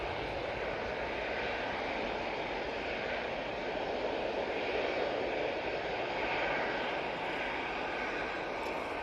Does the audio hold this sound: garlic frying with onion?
no